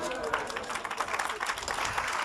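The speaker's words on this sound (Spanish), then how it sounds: "Denle un aplauso de Dios." A church congregation applauds with dense, continuous clapping that holds steady for a couple of seconds, heard from a short distance in a large room.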